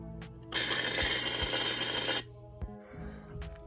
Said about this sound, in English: This is what the stove sounds like.